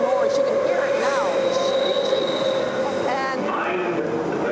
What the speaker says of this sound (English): The track is very curved, and when the train comes in, there's this really awful noise.